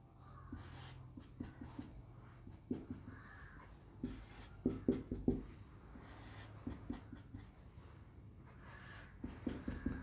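Chalk or a marker scratches and taps on a classroom board in short, uneven strokes during a geography lesson, close and fairly quiet, with a few louder knocks in the middle and no talking.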